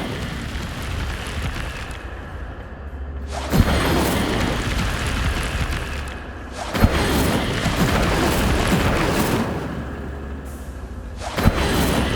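Incendio fire spell cast in the video game Hogwarts Legacy: roaring, whooshing flame bursts that swell and fade, with three sharp cracks marking new casts, loud and close with no talking.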